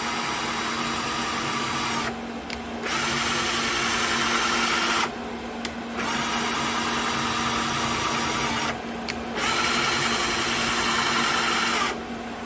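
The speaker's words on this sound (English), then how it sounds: "finish drilling all my holes" Power drill boring holes in the Z axis assembly of a DIY CNC plasma cutter, a steady close whirring grind that runs continuously for long stretches, broken by several short pauses.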